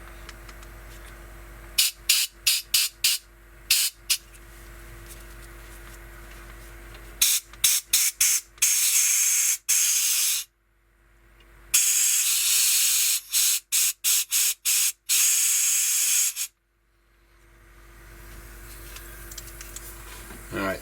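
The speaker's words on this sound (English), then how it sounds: "Let's see if we can blow some more air through things." Compressed air blasts through parts of a stripped-down Espar D30W boiler, first in quick short bursts, then in long loud hissing sprays separated by pauses, close to the listener.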